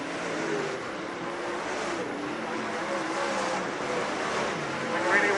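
Lucas Oil Late Model race cars roar around Utica Rome Speedway as a steady, distant wash of engine noise with no distinct pass-bys, swelling slightly at the end.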